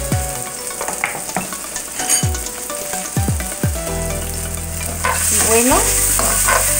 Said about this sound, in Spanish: vamos a incorporarle esta poquita de cebolla para que se empiece a sofreír.